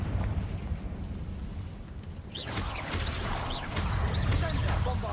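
Confringo fire spell bursting in Hogwarts Legacy gameplay on PC, a roaring blast with crackling, whooshing debris over a steady low rumble of game sound, loud and sustained after the cast.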